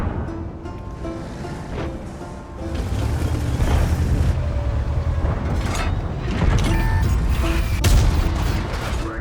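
High-explosive shells fire in World of Tanks from an ST-II tank, several heavy booms rolling over a low battle rumble, loud and close, with no clear speech.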